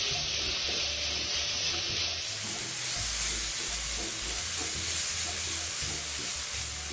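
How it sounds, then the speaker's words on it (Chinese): Pork spare ribs and taro being stir-fried with soy sauce, five-spice powder and salt in a pan, a steady hissing sizzle with faint scraping of stirring throughout, no voices. "将食材与调味料一起拌炒均匀。"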